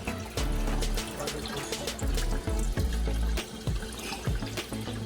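Water is poured into a bucket while a fish tank is being cleaned. It comes in uneven gushes and splashes with low sloshing surges and trickles between them, close and fairly loud.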